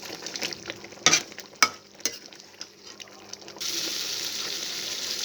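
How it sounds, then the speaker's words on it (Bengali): Chicken roast with fried cumin powder gets stirred in a pan, giving soft scraping and a few sharp spoon knocks over a low sizzle, and then the frying hiss grows steady and louder. "এটাকে খুব সুন্দরভাবে একটু নাড়াচাড়া করে নেব"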